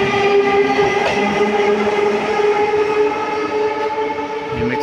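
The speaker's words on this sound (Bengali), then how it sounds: "একের পর এক আর ট্রেন আসছে চলে যাচ্ছে" A Panskura local train runs past Mecheda station, its loud steady rumble and clatter of wheels carrying layered humming tones, growing slightly quieter toward the end with no talk over it.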